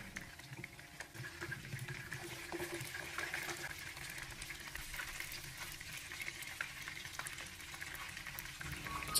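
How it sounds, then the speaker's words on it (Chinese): Fish pieces pan-fry slowly over low heat in oil, a soft steady sizzle with faint crackles running unbroken throughout, quiet and close with no talk. "再将鱼块给它翻个面，然后再继续的开小火给它慢慢的煎"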